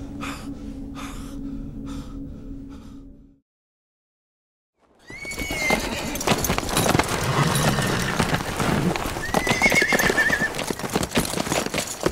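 A horse whinnies loudly after a brief silence, with hoof clatter, snorts and breathy gasps close by; earlier, a steady hum with soft tones.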